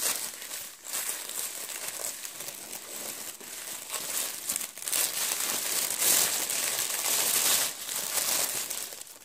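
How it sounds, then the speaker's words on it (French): A large plastic sachet is torn open and handled, giving a steady, close, busy crinkling and crackling that rises and falls in bursts, with no talk. "Après, je vais reprendre un grand sachet encore à ouvrir"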